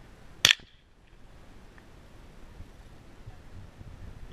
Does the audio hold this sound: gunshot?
yes